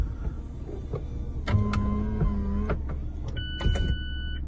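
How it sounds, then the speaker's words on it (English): The retractable hardtop roof of a Mazda MX-5 RF 2.0 Sport Nav Automatic folding away, heard as a whirring electric motor hum broken by several clicks and clunks as the panels move and latch, close by and with no talking. "Let me show you how the hood works. So, look at this go."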